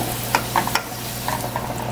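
Tortillas heating in a shallow layer of oil in a pan give a steady, soft sizzle, with a few small crackles and clinks over a low constant hum.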